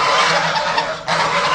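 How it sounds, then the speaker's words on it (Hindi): Loud, continuous noisy honking and squawking from a flock of ducks kept with other birds, many calls overlapping without a break and close by, with a brief dip near the end. "बड़ा शोर करती हैं जनाब ये बतखें, बड़ा शोर कर रही हैं"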